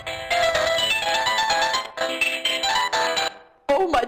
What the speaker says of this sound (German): Oh, mein Telefon.